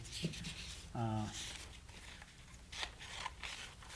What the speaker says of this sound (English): So I'm gonna go ahead and cut out a little bottom lip here.